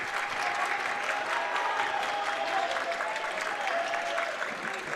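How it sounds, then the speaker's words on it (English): High school basketball crowd in a gym cheering and applauding steadily for the DeKalb Barons, a dense continuous wash of clapping and voices heard from a distance. "The Barron crowd doing their best to cheer up the Barons"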